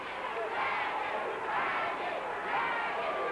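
Wrestling arena crowd in York chanting together, a loud, dense wall of voices swelling in waves through the whole stretch, with cheering mixed into the rhythmic chant.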